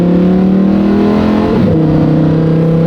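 A Lamborghini's exhaust holds a loud, steady rev, then dips and shifts pitch midway with a short throttle blip, close and continuous without talk.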